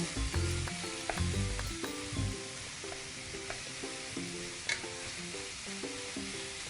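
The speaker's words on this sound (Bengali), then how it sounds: "মাঝে মাঝেই ঢাকনা খুলে খুন্তি দিয়ে নেড়ে নেব" Snail curry is stirred with a metal spatula in a frying pan, with loud scraping strokes at first, then a steady sizzle and bubbling with occasional clinks.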